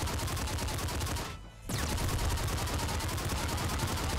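Rapid crossbow shots in the Nuclear Throne video game, a dense continuous volley of sharp repeated firing with a brief break partway through, loud and steady with no talk over it.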